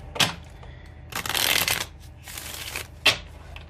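Tarot cards from a black Light Seer's deck being shuffled close up, with several bursts of riffling and flicking separated by brief pauses and a sharp snap near the end.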